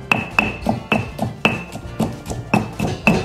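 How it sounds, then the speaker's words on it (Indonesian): Tamarind and spices pounded in a stone mortar with a pestle: a steady run of about ten sharp, close knocks, roughly three per second, each a bright stony tap with a short ring, heard alone. "Kita pakai tumbuk aja deh sahabatku bumbu-bumbunya."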